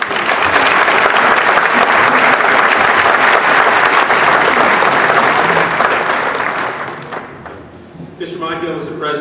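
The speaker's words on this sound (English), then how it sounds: "A round of applause." Loud, sustained applause fills the room at the 2014 Designing for the Future awards ceremony, a thick roar of clapping that thins out before a voice begins speaking.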